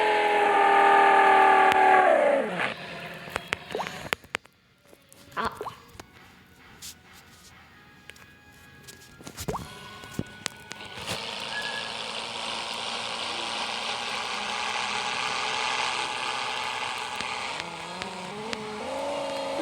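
A car in a 3D driving video game cruises at around 50 to 60 km/h, its steady engine drone loud at the start, cutting out briefly amid clicks, then returning as a continuous hum through the rest.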